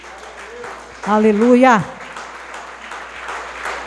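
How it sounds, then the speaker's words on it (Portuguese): A church congregation claps in praise while a voice loudly shouts an exclamation midway, the applause soft and scattered underneath and continuing after the shout. "se coloque de pé nesta noite e aplauda a Jesus"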